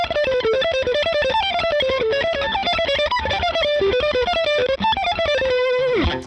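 Electric guitar run through a Line 6 Helix with only a compressor engaged and no overdrive, playing a clean, busy melodic line of quick picked notes for several seconds at steady loudness, alone, ending on a short slide.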